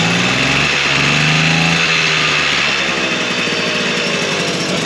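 A small pedal-started moped engine idling close by, a steady buzzing high-pitched putter that stays loud and even throughout.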